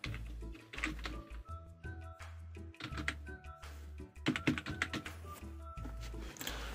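Typing on a computer keyboard in quick, uneven bursts of close, crisp key taps with short pauses between words.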